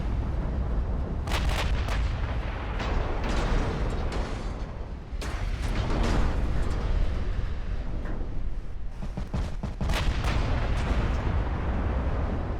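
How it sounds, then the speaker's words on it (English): Naval shells and torpedo hits in the battleship game Ultimate Admiral: Dreadnoughts boom repeatedly as heavy artillery fire and explosions, with loud rumbling impacts layered over a continuous low roar of battle. "Another torpedo hit over here. A couple of shells landed."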